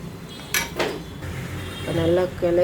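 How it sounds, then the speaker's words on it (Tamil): Metal utensils scrape and clink against a cooking pot as sambar is stirred, a few short clattering strokes up close. "போட்டு இதை நல்லா கிளறி"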